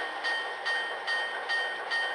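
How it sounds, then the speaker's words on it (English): A crisp electronic bell rings from an N scale PRR PA model diesel locomotive, striking in a steady rhythm about every half second, clear and close over a faint hum. "I'm going to hit function 1, which is the bell."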